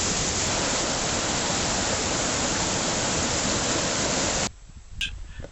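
A waterfall near Slaters Bridge in the Lake District roars as a dense, steady rush for most of the clip, then cuts off abruptly to a much quieter background near the end.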